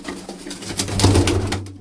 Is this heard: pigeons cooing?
yes